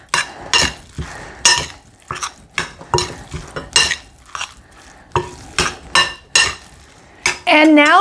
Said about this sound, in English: Try to mix that up best we can. Try to incorporate the egg.